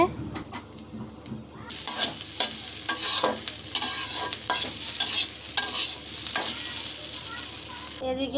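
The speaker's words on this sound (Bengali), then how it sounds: "এখন সিদ্ধ করে রাখা এই আলুগুলো দিয়ে দিল মাংসগুলোর মধ্যে" Boiled potatoes stirred into meat frying in a pan, with a steady close sizzle and repeated scraping stirs of a spoon against the pot, continuing throughout with no talk.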